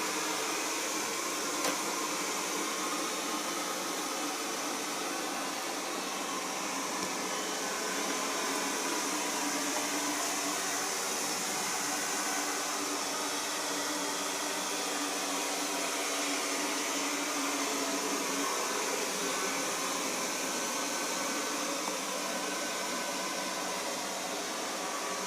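A LIECTROUX B6009 robotic vacuum cleaner runs with a steady, even whirring hiss, moderately quiet and unchanging, with no voices over it.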